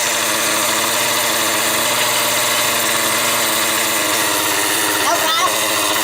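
Small gasoline engine running steadily after a pull start, a loud continuous idling drone with vibration and no pauses, heard up close.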